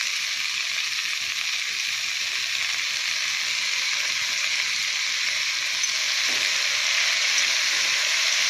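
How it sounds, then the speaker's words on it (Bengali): Chopped greens added to fried onions in a pan, giving a loud, even, continuous sizzle with no talking. "তো বন্ধুরা, আমার পেঁয়াজ ভাজা হয়ে গেছে। এবার আমি শাকগুলো দিয়ে দেবো।"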